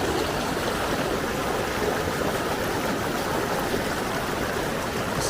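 River flowing near a campsite on the Pacific Crest Trail, a steady, even rush of moving water that is dense and unbroken from start to finish, fairly close, with no voices.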